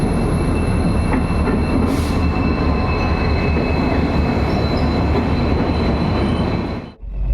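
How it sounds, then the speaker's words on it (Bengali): The Dibrugarh–Howrah Kamrup Express rolls into platform one with a loud, continuous rumble of wheels and carriages and thin high squeals above it, and the din cuts off abruptly near the end. "ডিব্রুগড় হাওড়া কামরূপ এক্সপ্রেস এক নম্বর প্ল্যাটফর্মে আসছে"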